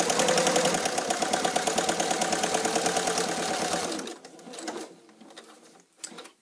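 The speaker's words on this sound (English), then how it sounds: "So continue to sew down." A sewing machine runs steadily for about four seconds, stitching the side seam of a fabric bag, then stops, leaving a few soft handling rustles and a small click near the end.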